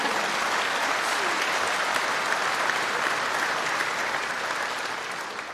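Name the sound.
audience applause at BAFTA Games Awards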